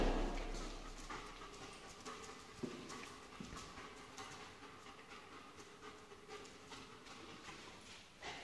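A search dog pants steadily and quietly at close range while hunting for an item in a basement, with faint shuffling and scattered clicks around it; no one speaks.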